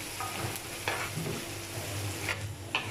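A tomato mixture fries in a pan with a soft, continuous sizzle and a few light stirring scrapes.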